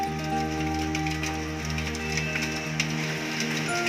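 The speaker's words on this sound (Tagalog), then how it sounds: "naman daw umulan ng yelo" Hail falls during a storm in Rockhampton, Queensland, Australia, with small ice pieces making a steady, dense patter and scattered sharp ticks on surfaces, over a constant low hum.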